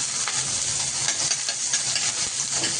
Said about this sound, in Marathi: आता कांदा पण चांगला परतून घ्यायचा